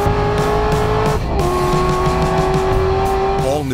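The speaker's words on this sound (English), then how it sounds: "And today, the new C7 Stingray, reimagined for the future. 0 to 60 in less than 4 seconds." A Corvette C7 Stingray with the LT1 V8 engine accelerates hard, its loud, close engine note climbing in pitch, briefly dipping at a shift and then rising again.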